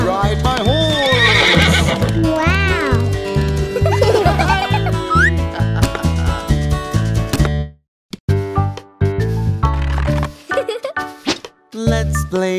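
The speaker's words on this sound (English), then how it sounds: "I am a horse, and I love to ride my horse." A cartoonish horse sound in a children's nursery rhyme game: a whinny and rhythmic clip-clopping hooves over a steady bouncy music track, with a brief quiet break near the end before the music resumes.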